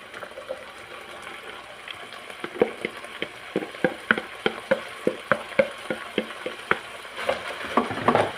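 Onion sizzling in a little oil in a pan, with crackling pops and spits growing busier and louder over a steady background hiss, close up with no talking.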